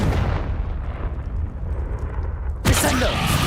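Confringo fire-blast spell in Hogwarts Legacy on Xbox Series X. A sustained rumbling roar is broken near the end by a sharp, loud explosive burst.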